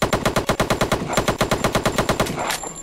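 Rapid automatic gunfire from a gun in the video game Apocalypse: The Game, a steady fast burst of loud shots lasting nearly three seconds before cutting off, with no talking.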